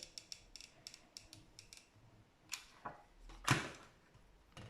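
Scissors snip material while a small popsicle-stick Christmas chalet is crafted, a series of sharp, close clicks in an uneven rhythm, followed by a louder rustling cut near the end, with no voice.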